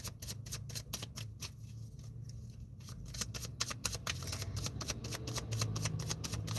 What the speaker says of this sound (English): I've been shuffling the cards to get another one